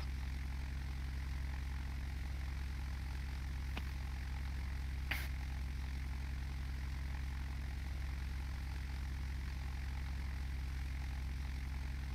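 Carenado F406 Caravan twin-turboprop in Flight Simulator X, a steady, unbroken engine drone throughout with two brief clicks, no talk.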